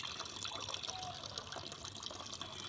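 Water running from a tap into a bucket, a steady close trickle and splash with no talk over it.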